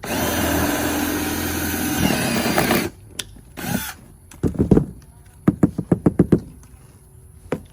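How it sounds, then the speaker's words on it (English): A power drill fitted with a step bit whirs steadily for a few seconds while drilling holes during a bed cover install on a Ford F-250 Super Duty, then stops, followed by a string of sharp clicks and knocks of tools and parts being handled. "We've got a little step bit here, and I'm going to measure this out and drill some holes."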